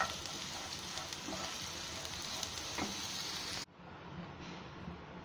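Oil sizzles and fries loudly in a pan while tempering spices for a Hindi-style jimikand (suran/yam) curry, a steady dense hiss that abruptly drops to a quieter simmer near the end.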